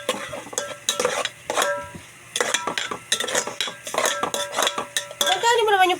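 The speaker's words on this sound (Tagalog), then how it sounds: "Sige, gisa mo." Sautéing ingredients in a pot for sopas: repeated metal clanks and scrapes of a utensil against the pot over a light sizzle, with voices talking in the background.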